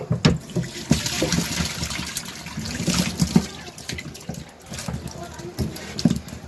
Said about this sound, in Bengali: তো একবার ঢেলেই দেখাচ্ছি মাছগুলো